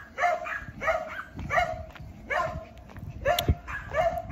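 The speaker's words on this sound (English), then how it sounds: "in the middle of my videos, dog barking" A dog barks repeatedly in a steady rhythm of roughly one bark every half second to second, fairly close and loud, outdoors during an independence parade and expo in St. Vincent and the Grenadines.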